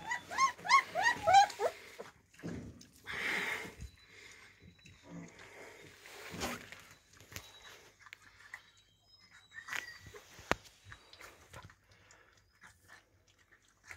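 Puppies whimper and yelp in short, high bursts, fairly faint, followed by scattered rustling and soft thumps.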